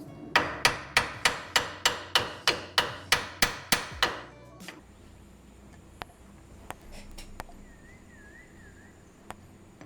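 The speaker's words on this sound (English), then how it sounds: "Tap this a couple times with the hammer." A hammer taps a part on a cone fitting twelve times in quick, even succession, close and crisp, followed by quiet with a few scattered faint clicks.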